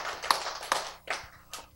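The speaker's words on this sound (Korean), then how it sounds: "박수!" Several sharp hand claps from a small audience at a Korean health-and-diet lecture, four separate broadband bursts spaced unevenly about half a second apart, close and fairly clear with no talk over them.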